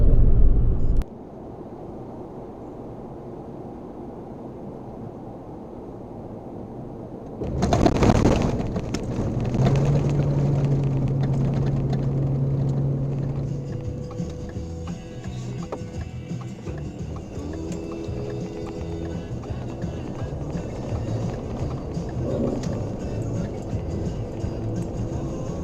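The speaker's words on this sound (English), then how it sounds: "coming up here is about where we leave the pavement and get onto some gravel" A car moves off pavement onto a gravel road near Jumpingpound Ridge in Kananaskis, giving a steady interior rumble with a sudden jolt, then continuous crunching from the tires under low wind noise.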